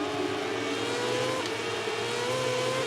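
Moto2 racing motorcycles in the MotoGP 18 game, an onboard engine note holding a high, steady whine that rises and dips slightly with throttle, loud and continuous, with faint tire noise and no voices.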